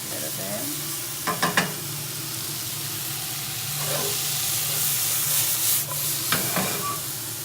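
Risotto stirred in a pan, with a steady sizzling hiss from the cooking rice and a few louder scraping strokes of the spoon, close and continuous with no talk.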